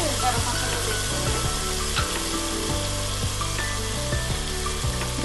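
Vegetables for veg biryani fry in a pan with ginger-garlic paste and garam masala, giving a steady close sizzle broken by regular knocks and scrapes of stirring.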